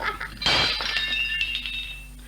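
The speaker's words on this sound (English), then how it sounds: "Zetterholm pulled at the tube, sending several dishes crashing to the floor." Several china dishes, including a fine vegetable dish, crash to the floor indoors in one loud shattering burst, then scattered pieces clink and rattle as they settle.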